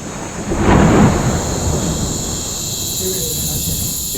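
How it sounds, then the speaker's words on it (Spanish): A rumble of thunder rolls in during a jungle storm at night, building and fading within a second or two over a constant bed of chirping crickets and insects. "Parece que va a llover porque hay tormenta."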